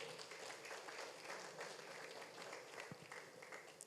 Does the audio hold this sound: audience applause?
yes